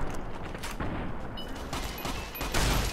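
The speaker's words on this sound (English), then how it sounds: "I'm just gonna use a shotgun." Rapid bursts of shotgun fire and explosive booms in Fallout New Vegas, loud and close, several blasts packed together over a few seconds with no talking.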